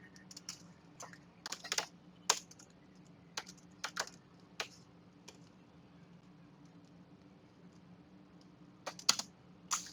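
Keys clack on a computer keyboard as code is typed, in quiet irregular bursts of taps separated by pauses, close and fairly faint with no talking.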